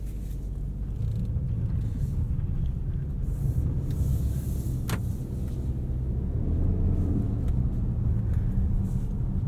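A 2020 Subaru Ascent Touring with a CVT cruises down the road, heard from inside the cabin as a steady, loud low rumble of engine and tires that stays even throughout, with no talking.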